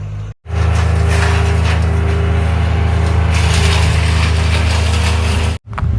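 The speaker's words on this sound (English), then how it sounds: "There's a tree trimmer person down here and they're about to make noise." A tree trimmer's machine runs nearby, a loud, steady droning roar that holds for several seconds, cutting in and out at the edges.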